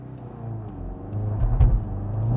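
A manual 2022 Volkswagen GTI launches on a track without launch control, its engine rumbling steadily and swelling toward the end with a brief rough shudder from wheel hop, loud and close with no talk.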